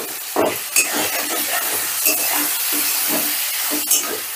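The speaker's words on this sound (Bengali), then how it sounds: "মশলাটা একটু নাড়াচাড়া করে দিয়ে দিচ্ছি টমেটো কুচি" Chopped tomatoes and spices are stirred in a pan, with a soft sizzle and hiss broken by scraping strokes and a few sharp clinks from the utensil, close by and without talk.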